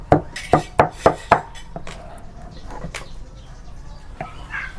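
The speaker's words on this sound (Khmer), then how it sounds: "លើកប្រហុកចេញយើងហាន់សាច់ម្ដង" A knife chops through beef on a board for a Cambodian prahok salad, with five sharp, evenly spaced strikes up close, then a few softer, scattered cuts amid light kitchen rustle.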